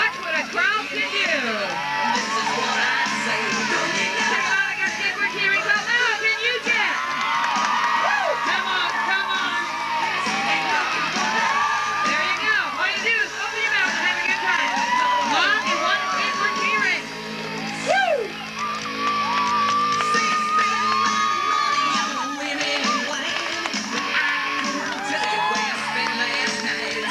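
Loud, sustained cheering from an audience at a 1989 freestyle BMX action sport show, with whoops, shouts and children's yells surging throughout and a brief dip near the middle.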